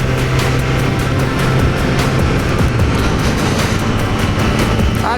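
A Triumph Trident 660 motorcycle engine pulls hard in second gear, a loud, steady, close drone with a rising pitch that holds throughout, no voices over it.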